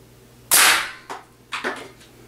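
An Airforce Condor air rifle fires once straight from its air tank, untethered, with a sharp loud crack followed by short echoing knocks and a second, fainter impact-like report about a second later.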